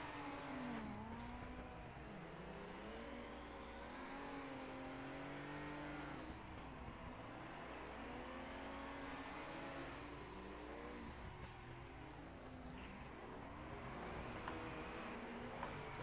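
Drift cars in the racing sim Assetto Corsa, including a Nissan Skyline, rev and bounce off the limiter in a continuous, wavering engine howl, with several engines overlapping throughout at steady volume.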